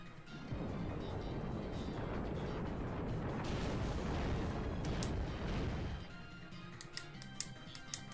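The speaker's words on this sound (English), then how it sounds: "We shall Earthquake him." The Earthquake move strikes in a Pokémon video game battle as a loud rumbling, crashing roar that runs for several seconds, then fades into quieter game sounds with a few sharp pops.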